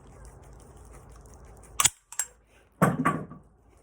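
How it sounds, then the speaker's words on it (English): A surplus rifle with its dust cover taped shut is dry fired, giving a sharp metallic snap followed by a short rattle and a second louder clack, close and alone after a quiet lead-in. "that's what happens when you dry fire stuff that's taped together"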